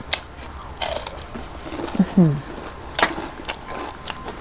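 Blanched carrot is bitten and chewed up close, with crisp crunching bites and a wet chewing burst in the middle, while a voice murmurs softly.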